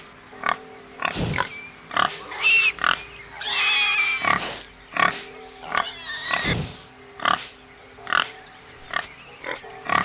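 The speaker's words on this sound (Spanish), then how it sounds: "Cerdo." A farm pig grunts and snorts in a steady series of short, close, gruff bursts, with a few longer squealing snuffles in between.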